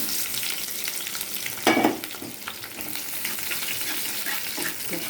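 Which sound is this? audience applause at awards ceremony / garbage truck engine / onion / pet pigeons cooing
onion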